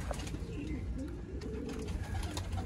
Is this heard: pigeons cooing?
yes